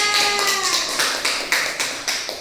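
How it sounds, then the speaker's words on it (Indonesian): Students in a madrasah classroom clap for a student group in a quick, rhythmic pattern of sharp, evenly spaced claps, loud and close, with a brief tonal sound at the start. "Berikan tepuk tangan untuk kelompok 2."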